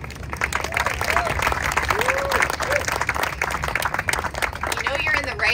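Outdoor crowd at a Los Angeles County beach ceremony applauding steadily with scattered cheers and whoops, a dense continuous wash of clapping held at an even level throughout.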